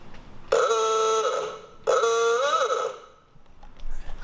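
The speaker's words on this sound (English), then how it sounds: "I'll see if you guys can hear the horn." A 1930 Ford Model A Deluxe Roadster horn sounds twice, each a loud, buzzy, nasal honk lasting about a second, separated by a short pause.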